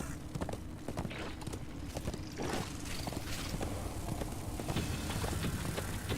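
A horse gallops in the Darksiders II video game, its rapid hoofbeats running steadily beneath a dense, busy mix of game sound that stays fairly even throughout.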